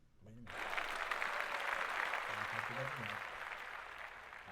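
A short spoken line gives way to sustained studio audience applause, many hands clapping loudly and evenly, while voices speak over it.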